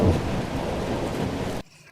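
Heavy rain with thunder, a dense, loud roaring downpour and rumbling that fills the scene, then cuts off abruptly near the end.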